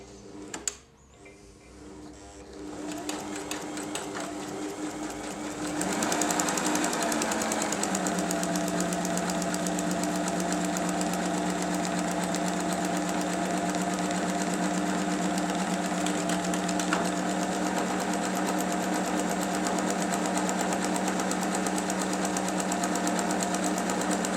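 A Janome 2522 domestic sewing machine stitching a buttonhole, its motor spinning up after a few seconds and then holding a steady, even mechanical whir with a fine rapid needle chatter, close and continuous.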